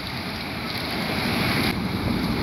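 Sea waves and wind at a harbour beside a coastal fort, a steady broadband wash of surf and gusting air, loud and continuous with no voices.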